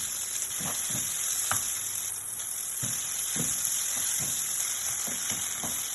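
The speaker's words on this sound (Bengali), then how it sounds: "এবারে আবার চিকেনটা দিয়ে মশলাটার সঙ্গে ভালো করে কষাতে থাকবেন।" Boneless chicken pieces frying with spices in an oil-filled pan while being stirred and tossed for Egg Chicken Mughlai: a steady close sizzle runs throughout, punctuated by soft scraping thumps from the spatula at irregular moments.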